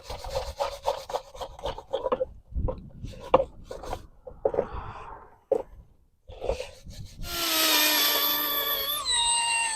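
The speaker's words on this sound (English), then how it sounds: "we're going to clean up the surface a bit here too" A brake caliper mounting surface on a 2014 Chevy Equinox is scrubbed clean with quick, rhythmic rasping strokes, followed by a sustained high whirring tool sound near the end, close and fairly quiet with no talking.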